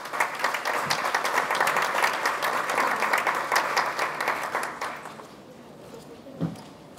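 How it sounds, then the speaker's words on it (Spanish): Audience applause at an academic health-promotion and cancer-control event, loud sustained clapping from a room of people that fades out over the last two seconds. "Fuertes aplausos, por favor."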